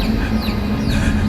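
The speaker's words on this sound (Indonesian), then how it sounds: "suara anak ayam itu semakin lama semakin terdengar sangat kencang" Chicks peep steadily inside a cave in a radio drama sound effect, the high, continuous chirps fairly loud and close over a low hum.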